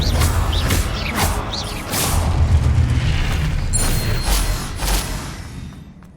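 Fiery Confringo spell blasts in Hogwarts Legacy gameplay, a series of deep booming explosions with whooshing bursts and crackling debris, several hits in quick succession, loud and close.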